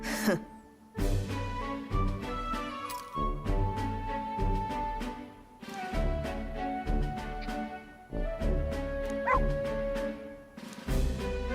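A dog in the video game Metaphor: ReFantazio gives repeated yips and whimpering barks over a steady, tonal musical backdrop, with no one talking.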